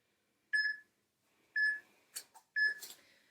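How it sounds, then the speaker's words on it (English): Workout interval timer sounding three short, clear electronic beeps about a second apart, each a bright tone, with faint rustling movement between them. "So let's get my timer started."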